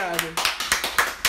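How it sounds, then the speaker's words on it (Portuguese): Hand clapping from a small group, about six sharp claps in an even rhythm under a brief trace of talk at the start, close and moderately loud. "Palmas para a claridade."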